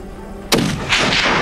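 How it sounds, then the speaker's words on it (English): A single hunting rifle shot fired to put down a wounded animal on the last day of a hunt, a sharp loud crack followed by a rolling echo, with no talk. "do I do the ethical thing and put him down with a rifle?"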